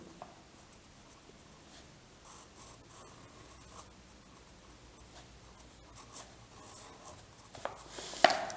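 Quiet scratching of a pen or pencil writing an answer by hand during a Class 1 Urdu lesson exercise, soft and continuous with a few faint taps and rustles, rising slightly near the end.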